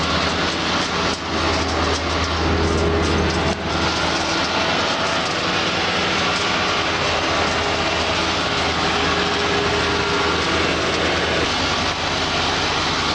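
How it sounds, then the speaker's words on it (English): A Davis mixer hammer mill combo grinding feed, driven by a tractor PTO: loud, steady mechanical roar with a low droning hum, continuous throughout with no speech. "I don't need to run my hammer mill anymore. So I'll shut the PTO off."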